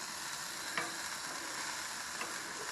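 Seasoned chicken pieces sizzle steadily on a grill, with a brief scrape and clatter as they are flipped over, the frying hiss constant and fairly close.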